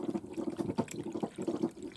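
Water is poured onto a seed tray of greens grown indoors, a soft, uneven splashing and trickling that comes close by and fairly quiet, with no talking.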